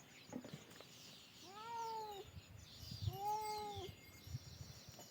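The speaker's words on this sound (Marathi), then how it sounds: "आता मी थोडं मांजरांना दूध ठेवतो बरं का" A cat gives two drawn-out meows about a second apart, faint against a noisy background of rustling and low rumble.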